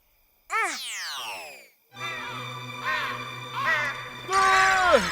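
A crow caws at night in a Hindi 3D animated comedy series, several drawn-out, harsh calls rising and falling, fairly loud and close, with a bright sound effect at the end.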